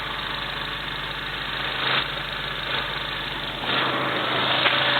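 A car fitted with a K24 engine runs close by, idling steadily with a few throttle blips that swell the rumble, ending on a louder, sustained rev.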